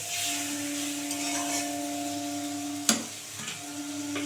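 Fruit chutney with turmeric stirred in a pan, gentle continuous sizzling with a steady hum beneath and one sharp scrape or clatter near the end.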